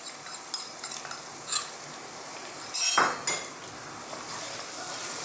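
Curry paste for a fish head curry stirred in a pan, with a spoon clinking and scraping against the metal in scattered knocks over a faint background, no voices.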